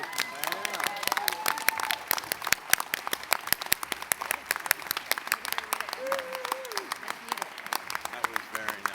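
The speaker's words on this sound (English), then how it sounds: "If you would please stand and give one last round of applause for everybody." An audience at an awards luncheon clapping, loose individual claps ringing out close and uneven rather than a thick roar, with voices speaking over the applause.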